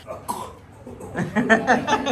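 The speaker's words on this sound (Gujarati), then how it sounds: "આજે ઉધરસ કેમ થઈ ગઈ?" A child coughs a couple of times in quick, short bursts, followed by a few small vocal sounds.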